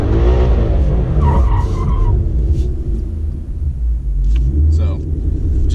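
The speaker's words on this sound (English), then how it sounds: "you want to rev it up a couple times and then dump the clutch" A manual drift-style car revs and its tires skid on a wet road during a 180 slide, with loud engine rumble and rough tire noise throughout and a voice talking over it.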